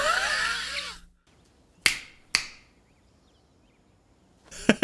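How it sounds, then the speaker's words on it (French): After a brief burst of other sound, two sharp, close finger snaps ring out about half a second apart against near silence, followed by another short noise at the end. "Je parle pas le claquement de doigts, moi."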